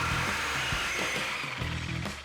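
Power saw blade cutting through a Flowmaster steel exhaust pipe on a 2024-2025 Toyota Tacoma: a loud continuous high whine with grinding rasp, broken by a few low knocks, close and without speech.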